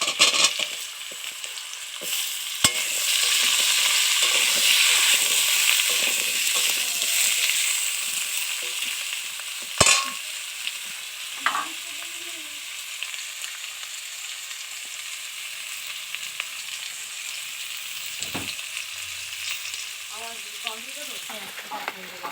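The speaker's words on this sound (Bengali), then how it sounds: "ডাঁটাগুলো একটু ভাজা ভাজা হলে ভালো হয়" Vegetable stalks sizzle steadily in a hot pan, loud at first and gradually settling, with occasional clinks and scraping of a spoon.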